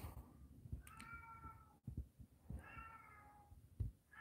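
A cat meowing indoors in a new house, two drawn-out meows separated by a pause, faint and close, with soft handling noises around them.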